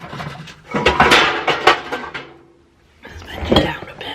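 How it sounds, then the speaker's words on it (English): Metal pans clatter and bang in a home kitchen in two busy bursts of knocks and rattles separated by a brief near-silent gap, loud and close. "I'm knocking down all the pans there"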